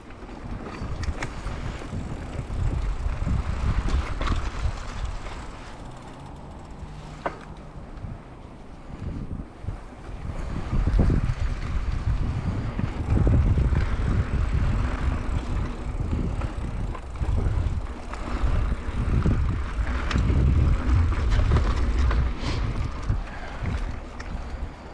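A mountain bike fitted with a Bucklos tapered fork rolls along a dirt trail, with continuous rumbling tire and chassis noise, rattles and heavy wind buffeting the microphone throughout, no voices.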